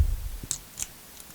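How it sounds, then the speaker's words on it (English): A small pair of folding scissors from a first aid kit being handled, giving two quick faint metallic clicks close by against a quiet background. "I have a little pair of folding scissors"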